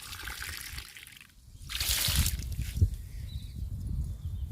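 Aloe vera liquid poured onto a jasmine plant, a soft burst of splashing trickle lasting about a second, then quieter dribbling under low background noise.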